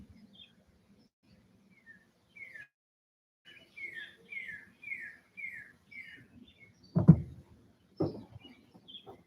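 A bird sings a series of clear descending whistled notes on a spring morning, close and distinct against near silence, followed by a couple of louder thumps near the end.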